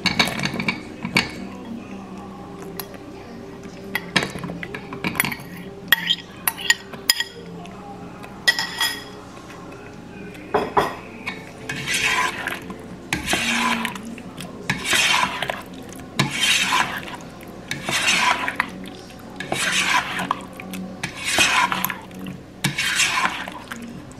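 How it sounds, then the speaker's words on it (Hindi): Fried capsicum and onion are added to a gravy in a pot and stirred. The spoon makes steady scraping, clinking strokes that grow into a regular rhythm of loud swishes in the second half, with talking throughout. "अभी जो हमने जो है वो शिमला मिर्च और जो प्याज थे वो फ्राई कर रखे हुए थे वो जाएंगे इस"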